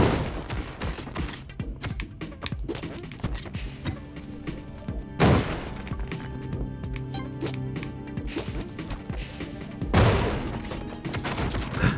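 A bomb blowing up a trap in a randomizer run of a platformer video game, heard as two sharp broadband thuds about five seconds apart over steady game music and noise.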